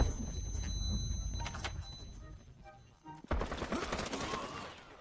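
G3 rifle gunfire in the Delta Force battle royale video game, several sharp shots in the first seconds, then a short lull and a denser burst of rapid fire, close and loud.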